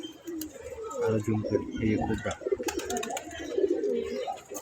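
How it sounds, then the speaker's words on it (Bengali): Pigeon cooing around a loft as the bird Kobra, a male lost during a race, sits panting back home; soft repeated coos run under steady nearby talking. "সকালে আমার একটা পাল্লায় পড়ে যাওয়া কবুতর ফেরত আসছে।"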